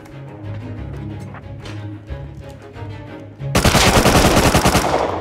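Rapid automatic gunfire in the survival video game Rust, a long loud burst of closely spaced shots arriving after a few seconds of quieter background game sound.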